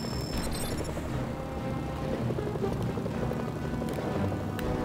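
Helicopter in the video game Mercenaries: Playground of Destruction, a loud, steady rotor drone filling the whole stretch with dense game noise underneath.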